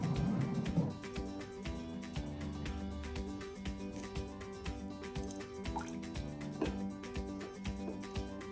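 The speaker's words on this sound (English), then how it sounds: "Then we will put the water." Water is poured into a density column experiment, trickling and dripping steadily with faint liquid gurgles under a quiet musical background.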